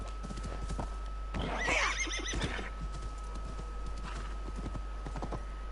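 A horse in Assassin's Creed Valhalla gives one clear, high whinny with hoof clops around it, set over a steady low hum and a constant tone, with no talk.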